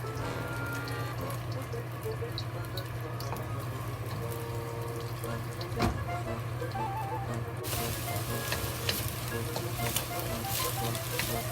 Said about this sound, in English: When the oil is hot, add the egg to it.